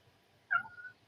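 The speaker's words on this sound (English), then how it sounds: "I hear a cat, another podcat." A cat lets out a single short meow, a brief tonal cry with a falling tail, fairly faint against a quiet background.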